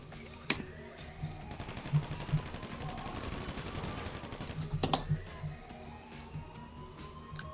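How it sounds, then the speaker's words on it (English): AP pistol gunfire in GTA Online, with quick bursts of shots in short clusters over a continuous game background, a few sharp loud reports standing out. "I'll just use the AP pistol."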